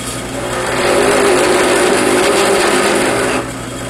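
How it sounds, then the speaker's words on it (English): A drill press fitted with an end milling cutter carves recesses into a wooden revolver grip, making a loud steady motor whir with a rising grinding roar that fades near the end. "I've just put an end milling cutter in my drill press here, and I'm going to use that to carve out these recesses to the required depth."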